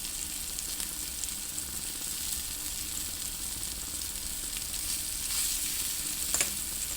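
A whole pomfret, known as vaval meen, fries in oil in a pan with a steady, even hiss of sizzling close up. A faint stirring scrape comes near the end, and no one talks.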